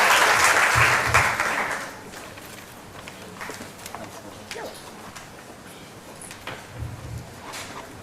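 Audience applause at a university business school undergraduate orientation, a loud burst for the first two seconds that fades into scattered claps, shuffling and footsteps as someone walks forward.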